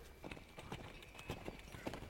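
Horses moving during a riding lesson: faint, uneven hoof thuds and stepping sounds in a noisy outdoor setting, fairly distant and spread irregularly across the stretch, with no clear speech.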